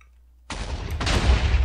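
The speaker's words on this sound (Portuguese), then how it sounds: "Nossa, explodi tudo." A Minecraft explosion erupts suddenly after a brief silence, a loud broadband crackling blast that swells into a second, louder burst and rumbles on without talk.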